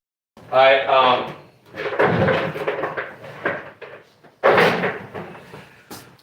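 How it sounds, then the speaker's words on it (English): The bottom drawer of a household dishwasher rattles and thuds as it slides open or shut, in several loud, clattering bursts separated by short pauses. "I really need to figure out what is going on with the bottom drawer of my dishwasher"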